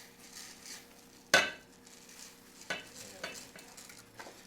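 Rinsed rice goes into a hot pan to toast, bringing a soft sizzle and a sharp clatter as it lands, then occasional scraping stirs against the pan, close and fairly quiet, with no talking.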